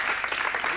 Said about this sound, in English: Worth some applause that day, Reggie.